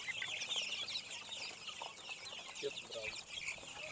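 Rhode Island Red chickens clucking as they eat feed on a farm, with a dense, busy chorus of soft clucks and scratching pecks and a few louder calls standing out, no speech.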